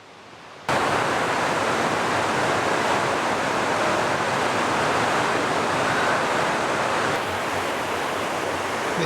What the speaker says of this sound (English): Now finally, we come to Indian Creek Falls.